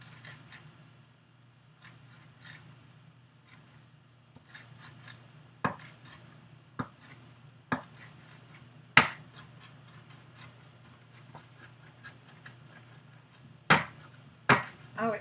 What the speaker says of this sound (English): I'm just going to chop these up. This handy dandy little chopper.